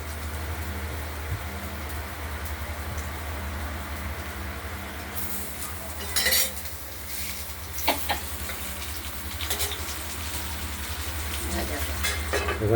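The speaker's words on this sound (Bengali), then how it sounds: "এইগুলো আমরা এইভাবে এক এক করে ভেজে নেব।" Poppy-seed-stuffed pointed gourds fry in oil in a wok with a steady low sizzle and bubbling, broken midway by a few sharp clatters and scrapes from handling the pieces.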